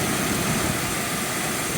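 A 1996 Ford F150's engine idles steadily with the AC compressor running, a continuous broad mechanical hum with no voices.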